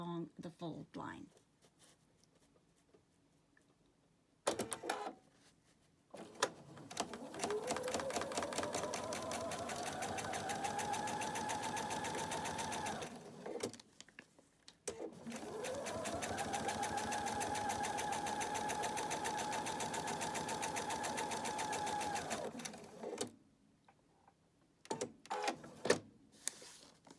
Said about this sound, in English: I'm back on the sewing machine, and again I'm going to start right at the edge and stitch all the way along the fold line.